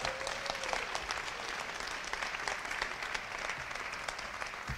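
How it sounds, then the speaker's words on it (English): Audience at a university Founders' Day ceremony claps for student leaders, a continuous, fairly quiet round of many hands heard from a distance for several seconds. "Let's give our student leaders a round of applause."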